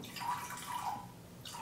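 Water is poured in a thin trickle into a glass of whiskey, a faint liquid dribble with soft splashes heard close up against a quiet room.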